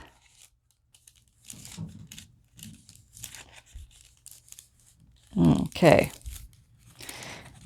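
Paper being snipped and cut with scissors for a junk journal made from book pages, a couple of loud crisp cuts near the end amid softer rustling, with a voice talking briefly.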